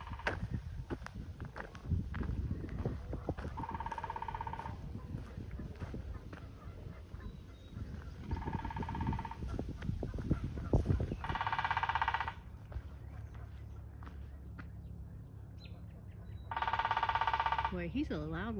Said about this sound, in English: Very industrious woodpecker.